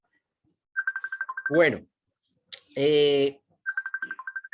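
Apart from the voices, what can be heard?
unknown person's phone ringing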